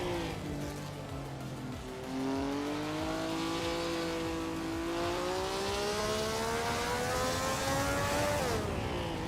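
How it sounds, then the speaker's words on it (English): A 1964 Ferrari 158 race car in a racing video game, its engine note climbing steadily as it accelerates, loud and continuous with harmonics sweeping upward and a brief dip near the end. "Amy is driving a Ferrari 158 from 1964"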